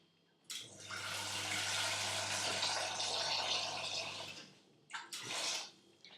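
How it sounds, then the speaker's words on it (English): Warm water pours steadily into a pan for about four seconds, a full rushing splash that tapers off, followed by two brief trickling pours close by. "I've added 2 cups of nice warm water"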